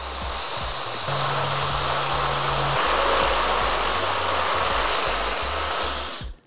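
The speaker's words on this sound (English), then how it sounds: "Now I'm gonna use a diffuser on low." A hair dryer fitted with a diffuser runs on low airflow and medium heat while drying curly hair, giving a steady, even whooshing roar that holds for several seconds before switching off.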